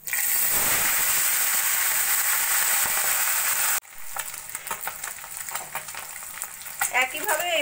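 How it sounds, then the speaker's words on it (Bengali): Small Morola fish frying in oil, a dense loud sizzle that drops suddenly midway, then continues as lighter crackling with clinks and scraping of a utensil toward the end. "একইভাবে বাকি মাছগুলো ভেজে নেব।"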